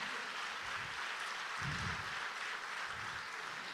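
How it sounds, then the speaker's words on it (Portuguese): Continuous applause from a church congregation during a service forms a dense, even wash of many hands clapping, somewhat distant and diffuse, with a faint low rumble underneath. "Dê um aplauso ao Senhor"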